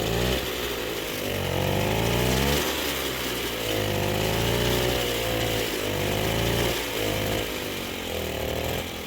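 A moped with electronic ignition runs up close, its small two-stroke engine buzzing loudly and rising and falling in pitch as the throttle is worked.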